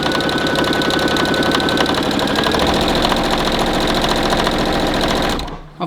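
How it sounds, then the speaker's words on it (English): A sewing machine stitching two fabrics together in a steady, fast mechanical whirr with rhythmic needle clatter, loud and close, running alone without talk and stopping abruptly near the end. "anchor your two fabrics together with your backward and forward stitch"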